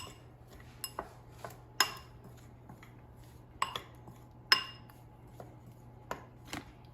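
Spoon scraping and clinking against a bowl while stirring chocolate chips into microwave cookie dough, a handful of sharp close taps spread irregularly over quiet background hum.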